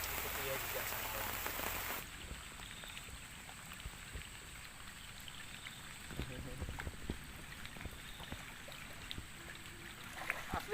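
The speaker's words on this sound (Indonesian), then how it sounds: "Jadi dari tengah malam hari hujan lagi nanti guys." Steady rain falling through the night at a riverside camp, a dense continuous hiss with scattered drops and occasional knocks close by, after a brief louder noise at the start.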